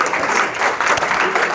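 Audience applause at the close of a lecture on Cuban women and the independence struggle, a steady, dense wash of many hands clapping indoors, filling the whole moment without talk.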